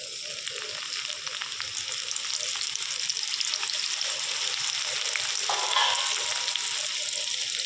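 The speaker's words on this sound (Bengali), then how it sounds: "এই ছোলাগুলো কিন্তু আমি এবার একটু ভেজে নেব" Chickpeas frying in lightly heated oil in a wok give a continuous, even crackling sizzle, close and moderately quiet, with small spatters and stirring scrapes and no talk.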